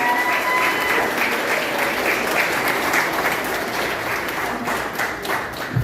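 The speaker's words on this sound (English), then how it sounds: "I think he deserves another round of applause." Sustained round of applause from an audience at a First People heritage week event in Santa Rosa, thick and continuous clapping that stays loud before easing slightly toward the end.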